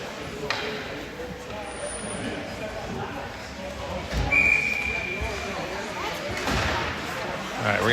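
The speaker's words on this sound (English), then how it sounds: "we're going to get a whistle" A referee's whistle cuts through at an ice hockey game, a short sharp tone mid-rink over a steady crowd rumble and skating noise, with a commentator talking throughout.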